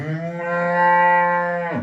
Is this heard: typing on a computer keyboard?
no